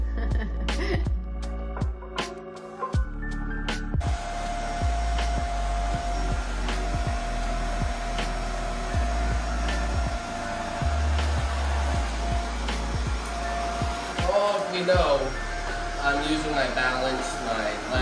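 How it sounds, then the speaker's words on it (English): A household vacuum cleaner runs continuously with a loud, steady motor whine and roar up close, while people talk over it. "I'll show you how I vacuum."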